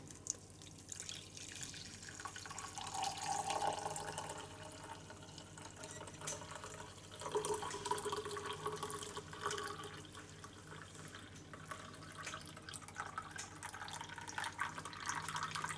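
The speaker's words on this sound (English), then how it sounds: "Bring the blender and sieve it." Blended ginger tea pours through a sieve, making a steady, soft watery trickle and dripping with a slight surge partway through, close by and without speech.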